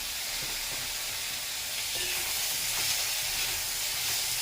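Asafoetida sizzles in hot oil in a pan for brinjal thokku, a soft continuous frying hiss with faint stirring scrapes, heard alone and fairly quiet.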